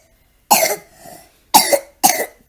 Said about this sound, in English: Oh, poor coughs.